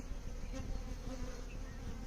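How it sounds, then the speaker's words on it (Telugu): Honey bees buzz steadily around a tamarind tree, a dense, continuous insect drone holding close and even throughout with no voices. "యాక్చువల్గా ఈగలు ఇక్కడ వాలుతున్నాయి"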